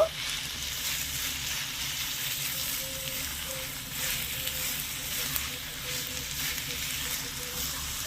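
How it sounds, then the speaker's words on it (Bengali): A sabudana laddu mixture being stirred in a pan over medium-low gas, giving a continuous soft sizzle and scraping texture at an even level, close by, with no talk. "ভালো করে নেড়ে ছেড়ে মিশিয়ে নেব"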